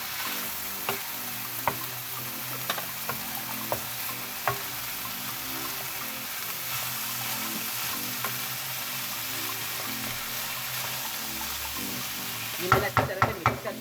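Mixed vegetables for macaroni fry and sizzle steadily in a pan, with occasional light stirring knocks. A burst of utensil clatter comes near the end. No one speaks.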